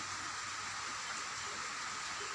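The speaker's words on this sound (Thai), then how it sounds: "เนี่ยตกแรงไมแล้วครับ ฟังเสียงฝนดูได้เลยครับ" Heavy rain falls steadily in a continuous, dense hiss with no let-up, with no voices or other sounds over it.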